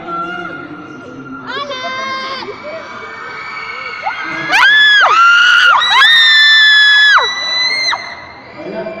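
A crowd of fans at a press conference screams and shrieks loudly and continuously, with high-pitched sustained yells from young fans rising and falling in overlapping bursts, peaking in a loud swell midway before easing off.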